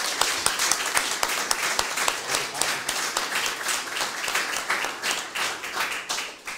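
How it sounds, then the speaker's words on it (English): Audience at a panel event on diversity and artificial intelligence bursts into loud, dense applause, many hands clapping continuously for several seconds with no speech over it. "And this is your applause."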